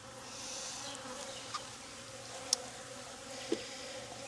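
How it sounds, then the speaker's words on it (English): Honey bees buzz in an open hive up close, a steady dense hum with a few sharp clicks and taps now and then, and no one speaking. "Nice up close look at those bees for you."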